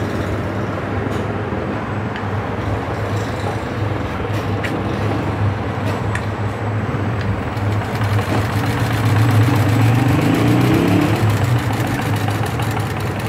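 Household sewing machine with a needle fault, skipping stitches as it sews fabric, runs as a steady mechanical drone with a low rhythmic hum throughout, growing slightly louder toward the end, with no talking.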